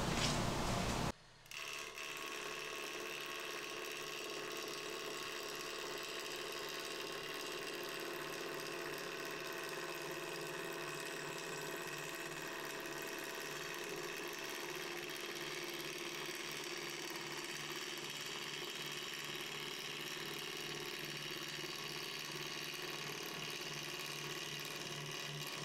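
Woodturning lathe with a Hunter Tool Systems Hercules gouge cutting a resin burl: a continuous, even mechanical hum and whir with a faint rhythmic texture, starting after a brief gap and holding steady throughout.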